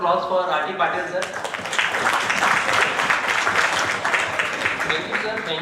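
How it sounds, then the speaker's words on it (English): A conference audience breaks into applause just after a brief voice, and the dense clapping carries on steadily with some talk mixed in. "huge round of applause"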